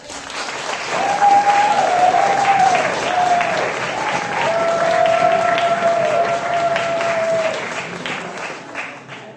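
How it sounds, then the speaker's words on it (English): Comedy night audience giving a sustained round of applause, loud and dense clapping that swells and holds for several seconds before tapering, with cheering tones mixed in. "Give them a round of applause"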